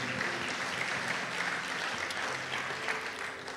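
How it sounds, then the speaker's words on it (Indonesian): A church congregation applauds, a dense, steady clapping of many hands that carries on throughout, heard from within the room. "Berikan tepuk tangan kita untuk Tuhan kita."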